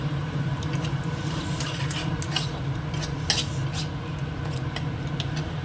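Masala with grated coconut and a little ghee being stir-fried in a pan, a steady sizzling hiss with light scraping clicks of a spatula throughout, close and continuous.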